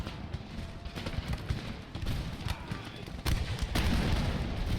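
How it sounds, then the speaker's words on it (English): Close-range musket volleys crackle between infantry lines in Empire: Total War, a dense, continuous rattle of many overlapping shots with heavier booms, loud and sustained throughout. "Very close range fire between these two lines."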